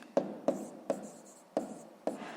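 Pen strokes scratch on paper as a math exercise is written down, five short separate scrapes at uneven intervals, close and quiet in an otherwise still room.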